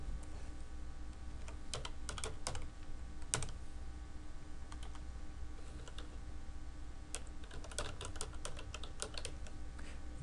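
Typing a web address on a computer keyboard, quiet clicking keystrokes in irregular bursts with short pauses, close and alone against faint background hum.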